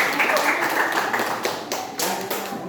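A small group claps during a classroom lesson, the rapid, slightly uneven claps close and clear, trailing off into a few scattered taps toward the end.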